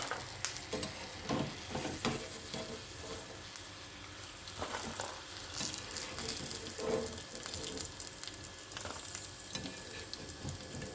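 Peanut pakodi deep-frying in hot oil makes a dense, continuous bubbling sizzle up close, with scattered crackles and the odd clink of a utensil throughout.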